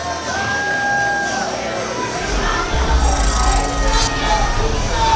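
Crowd at a CCW wrestling show cheering Billy Gunn, a loud roar of voices with scattered whoops and yells that swells toward the end, close and continuous.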